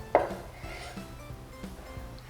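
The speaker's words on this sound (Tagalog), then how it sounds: "Dinadice ko lang itong tokwa." A kitchen knife dices a block of extra firm tofu on a cutting board, one sharp initial chop followed by a series of soft, evenly spaced taps at a steady rhythm, close and fairly quiet.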